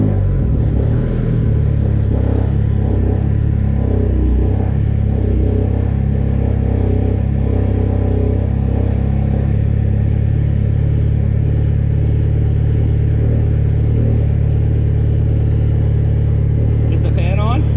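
A big-turbo Dodge SRT-4 idling and revving on a dyno, a loud, steady low engine drone with rising harmonics that holds close for the whole stretch, with voices talking over it.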